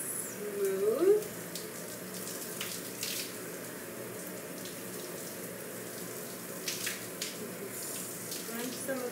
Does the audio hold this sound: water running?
yes